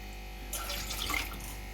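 Water pouring into a pan for besan halwa syrup, a brief splashing trickle rising over a steady background hum, close and moderately quiet, with no talking.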